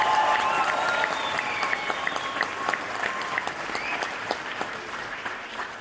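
Big round of audience applause at a film screening event in Novi Pazar honoring the cast, sustained dense clapping that gradually thins toward the end.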